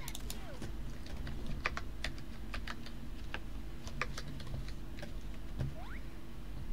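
Rapid, uneven keystrokes clatter on a computer keyboard during a Roblox livestream, crisp close clicks scattered across several seconds over faint background noise.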